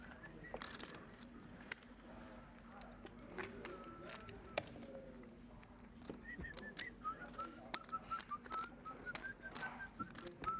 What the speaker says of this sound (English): It's like the tongue whistle.